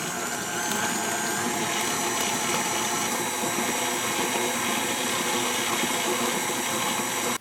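An electric mixer whirs steadily as eggs and vanilla extract are beaten into chocolate chip cookie dough, a loud continuous motor hum with no pauses.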